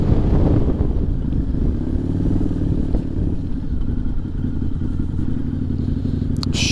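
A Harley-Davidson motorcycle ridden on the road, its engine a loud, close, continuous low throb with rattling and wind rush throughout.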